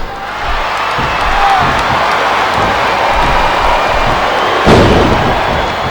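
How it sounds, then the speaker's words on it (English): A wrestling arena crowd roars steadily in the video game Smackdown vs Raw 2007, a dense, loud wash of cheering with a brief swell near the end. "Sounds like this crowd's got something on their minds"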